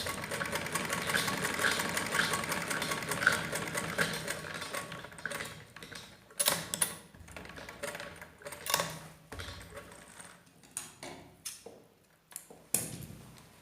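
A sewing machine stitches the fabric of an umbrella gown in a rapid, continuous mechanical whir, then breaks into shorter bursts with pauses and handling clicks as the cloth is folded and pressed.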